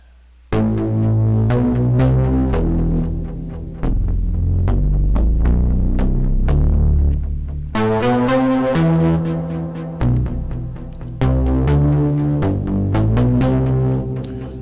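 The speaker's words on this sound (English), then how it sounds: "it's a bass that's very demanding" A layered synth bass built in Propellerhead Reason with saturation and a compressor, loud and dense, with repeating throbbing notes in a steady pattern that restarts every few seconds, no voices.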